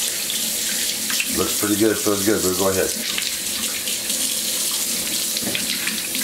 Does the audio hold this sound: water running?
yes